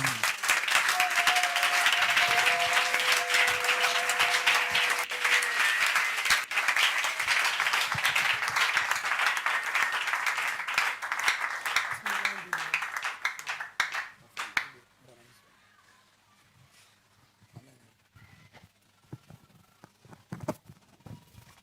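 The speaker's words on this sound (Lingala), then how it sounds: "Et le peuple acclame très fort pour Elohim." A church congregation claps and cheers loudly for about fourteen seconds, a dense roar of applause that then drops away to scattered claps and a quieter room.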